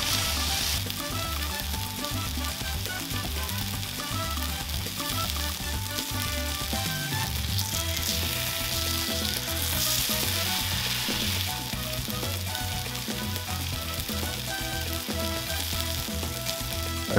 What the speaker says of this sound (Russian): Обжариваем по 2 минуты с каждой стороны, запечатывая внутри куска мясной сок.